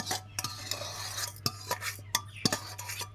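Green chillies and salt being pounded for a tomato chutney, giving a series of sharp, close knocks at an uneven rhythm over a low steady hum.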